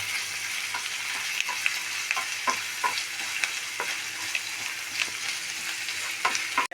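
Whole spices, a piece of cinnamon, cardamom pods, black peppercorns and cloves, fry in oil with a constant sizzle, broken by regular sharp taps and scrapes of a spoon stirring the pan.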